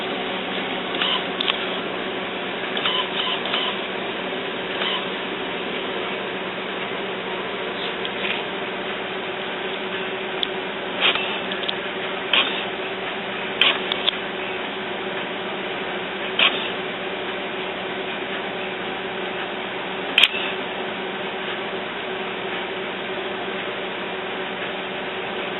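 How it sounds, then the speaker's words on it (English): An HP Officejet 4620 inkjet printer with a continuous ink supply system prints a quality report, giving off a steady mechanical hum broken by scattered soft clicks and clunks of the moving carriage. "then it's going to print out the quality report"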